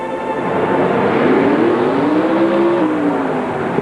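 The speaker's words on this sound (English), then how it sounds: "The 1993 four-wheel drive Isuzu Rodeo features a powerful new 175 horsepower V6 engine" A 1993 four-wheel-drive Isuzu Rodeo with a 175-horsepower V6 engine revs loudly and continuously, its engine tone climbing and holding steady with no talking over it.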